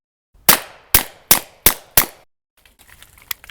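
Five sharp shots from a suppressed P17 pistol ring out in quick, evenly spaced succession, each a loud crack with a short decay, followed by faint clicks and handling noise.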